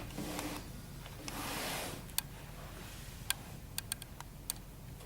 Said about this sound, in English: what I'm doing here is jabbing my needle into the wool